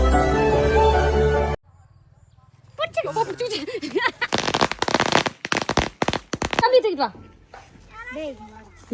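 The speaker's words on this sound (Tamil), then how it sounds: "சரம் வெடிக்க போறோம்" A rapid string of firecrackers pops and crackles in a dense burst during Diwali celebrations, with excited voices and shouting before and during the explosions.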